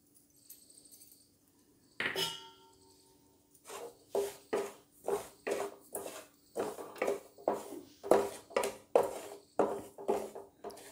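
Semolina (rava) being dry-roasted in a pan for karanji, heard as a steady run of soft, rhythmic scraping strokes from a spoon or spatula stirring the grains, close and fairly quiet with no talk.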